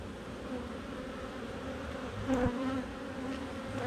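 Honeybees buzzing steadily around an open hive during an inspection while a wax foundation sheet is added in a nectar flow, a close, continuous drone with a brief louder swell midway, no talk.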